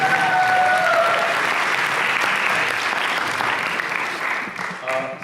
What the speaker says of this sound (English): let's have a round of applause for all the people who are putting this on